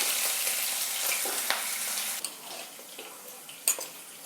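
Green chilies and ginger, with nigella seeds, lightly frying in a pan: a bright, steady close sizzle that eases off midway, with a few light utensil clicks toward the end.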